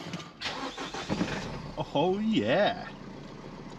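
A car engine cranks and fires after an alternator install, followed by idling. Someone speaks briefly over it.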